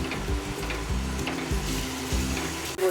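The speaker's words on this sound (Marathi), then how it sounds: "मिरची आलं पेस्ट आपण चांगलं परतून भाजून घेऊया" Ginger-chili paste sautés in a pan over medium heat, giving a continuous close sizzle and crackle with a low, pulsing hum beneath it and no voices.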